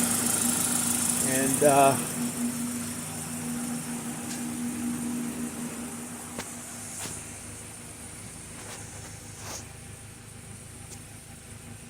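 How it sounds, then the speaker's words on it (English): 2000 Toyota Celica GTS engine idling at operating temperature, a steady low hum with occasional faint ticks, while someone talks briefly near the start. "you can see here that it's idling properly now. It's been running the whole time. It's at operating temperature"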